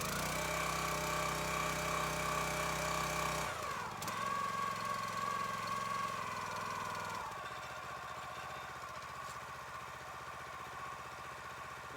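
A petrol engine on a log splitter runs steadily and close by, its tone dropping around four seconds in and again near seven seconds as it settles into a lower idle, with no talking.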